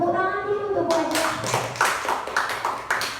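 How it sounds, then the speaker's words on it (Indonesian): A group clapping for a female teacher during an online teacher-training session, a burst of uneven claps following a short stretch of talk at the start. "Tepuk tangan dulu untuk Bu Ajeng."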